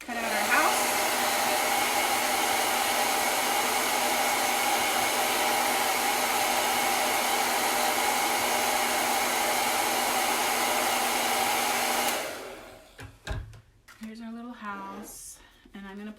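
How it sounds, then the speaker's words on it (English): A hair dryer blows steadily and loudly for about twelve seconds while drying a craft piece, then cuts off, followed by brief handling noises and a short stretch of talking. "Okay, let's blow dry this."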